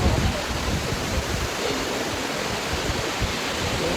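Cool coffee beside a summer waterfall at a multi-storey cafe, the water a steady, loud broadband rush that never lets up, with no voices over it.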